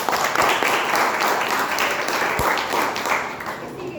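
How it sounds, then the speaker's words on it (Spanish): Students in a university therapeutics class applaud their classmates, giving four seconds of sustained, dense clapping from a roomful of people, with faint voices mixed in underneath. "aplaudan a sus compañeros."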